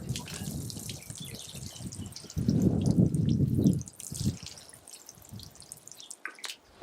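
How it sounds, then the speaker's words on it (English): Water poured over potted spring seedlings, a steady splashing trickle that swells louder for a moment midway, then thins to scattered drips near the end. "I'll just water these seedlings"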